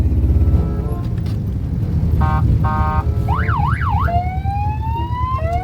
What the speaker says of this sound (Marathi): बघा किती किती प्रकारचे हॉर्न टाइप्स. ॲम्ब्युलन्स पण आहे.